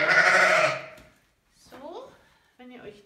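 Two sheep shorn in autumn bleat on a farm, one long loud bleat followed by two shorter wavering calls after brief pauses, close by and with no talk over them.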